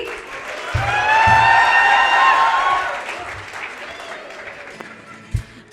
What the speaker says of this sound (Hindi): ताली बजाओ भाई.